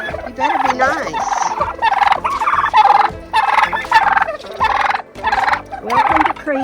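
Turkeys gobbling repeatedly in rapid, warbling bursts, loud and close, one call overlapping the next with brief pauses between.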